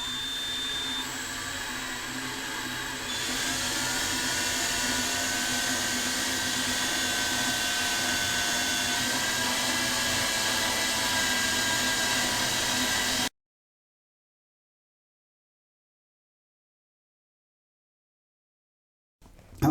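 A power drill on a slow setting boring into bathroom drywall for anchors, a steady whirring hum that rises slightly in pitch and runs for about thirteen seconds before cutting off into silence.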